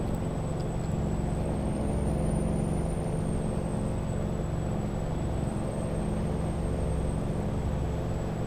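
A Kenworth W900 truck in American Truck Simulator with a modded engine sound: a steady, loud low drone of the engine running continuously, with a faint high whine above it, no talking.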